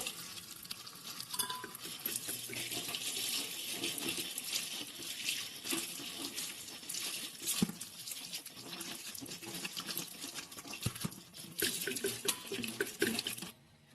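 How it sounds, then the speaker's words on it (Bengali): Potatoes, five of them for dum aloo, being washed by hand in water in a home kitchen, with steady sloshing, splashing and rubbing that continues throughout, nearby and fairly loud, with occasional knocks. "এবার আলুগুলোকে ভালো করে ধুয়ে নেব"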